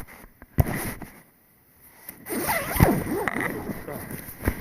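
A clothing zipper on outdoor gear is tugged up with both hands in a few short, rasping pulls. The sound is close and starts after a brief pause, with a voice talking over the later pulls.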